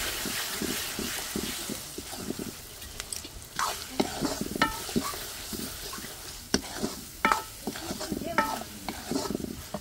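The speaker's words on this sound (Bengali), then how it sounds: "পেঁয়াজটা একটু ভাজা ভাজা করলাম এখানে হলো আদা বাটা দিয়ে দিলাম" Onions and ginger paste sizzle in a hot pan while a spoon stirs and scrapes repeatedly, with no voices.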